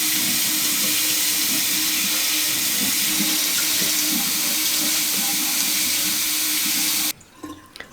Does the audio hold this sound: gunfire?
no